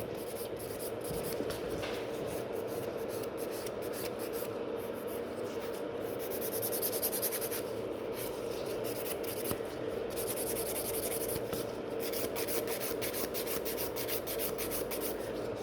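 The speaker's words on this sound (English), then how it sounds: "I've got quite a lot of filing to do" Steady, continuous whirring buzz of an electric nail file working a thumbnail during a manicure, held at an even level throughout with no break.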